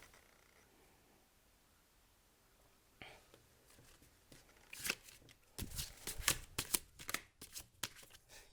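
A tarot deck is shuffled close up, soft rustling at first and then a quick series of sharp riffling and slapping bursts as the cards are mixed, with no talk.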